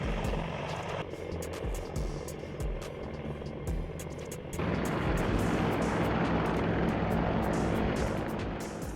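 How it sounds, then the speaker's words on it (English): An AH-64 Apache helicopter flies during a test flight, its rotor producing a continuous broad whooshing roar with rapid chopping pulses that grows louder partway through. "the helicopter takes to the air, demonstrating breathtaking maneuvers"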